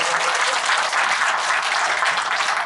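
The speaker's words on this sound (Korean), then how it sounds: "큰 박수를 보내주시기 바랍니다." A crowd gives steady, dense applause at a launch ceremony in Gwangju marking the 160th anniversary of Koryo-saram and Korean migration, with no voices over it.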